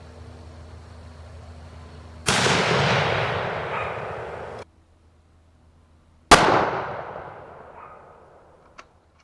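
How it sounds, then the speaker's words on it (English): Two loud, close gunshots fire Hornady 147 grain TAP bullets at body armor made from firehose, each a sharp crack with a long decaying echo, spaced about four seconds apart and followed by a faint click. "We're going to fire the 147 tactical application police Hornady projectile now and see how it does."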